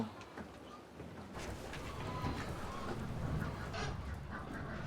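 Ducks on a small Armenian farm honk and quack in a noisy, continuous flock chorus, with general outdoor background noise throughout.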